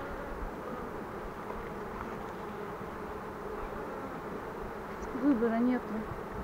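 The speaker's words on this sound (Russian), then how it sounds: "А вообще злятся, если честно." Honey bees at a village apiary make a quiet, steady buzzing hum throughout, with a slightly louder swelling buzz near the end as a bee passes close.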